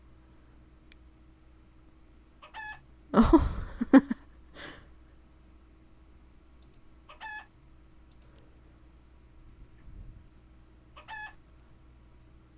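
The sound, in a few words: chicken clucking and crowing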